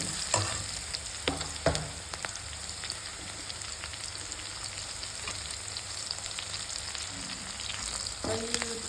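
Chicken frying in a pan with turmeric, a steady close sizzle throughout with occasional spatula scrapes and taps as it is stirred.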